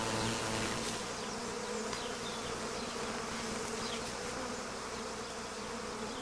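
A swarm of honeybees buzzing: a dense, continuous drone of many insects that holds steady and fairly loud throughout, with no voices.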